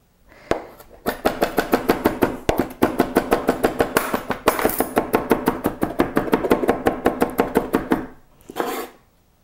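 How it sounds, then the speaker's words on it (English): A knife chops fresh herbs finely on a cutting board in a home kitchen, giving a fast, steady run of sharp, evenly spaced taps that continues for several seconds before a brief pause and a final short burst. "So I'm cutting the herbs pretty fine."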